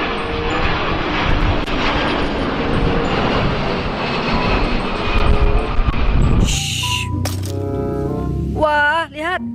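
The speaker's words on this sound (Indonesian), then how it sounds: "ada pesawat penumpang. Ini pesawat Eva Air" Eva Air passenger airplane engine roar, loud and continuous with a broad rushing tone, giving way near the end to brief tonal electronic sounds.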